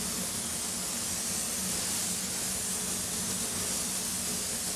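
A continuous hissing spray, broad and airy, runs steadily without pause, close to the listener.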